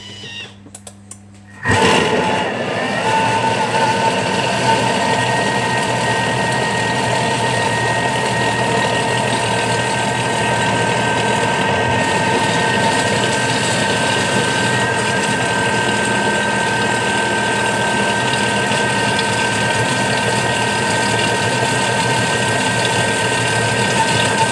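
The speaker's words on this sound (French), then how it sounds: "Et là, on va venir mélanger pendant 25 secondes," A kitchen mixer whirs at speed 6 for about 25 seconds, blending pineapple upside-down cake batter with lemon juice. It starts abruptly and then holds a loud, steady mechanical drone close by.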